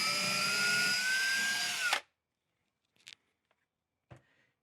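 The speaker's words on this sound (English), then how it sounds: "Drill a hole either in your sheetrock or your masonry." Power drill boring a hole into sheetrock or masonry, a loud close whine for about two seconds that cuts off sharply, followed by a few faint clicks and taps in near silence.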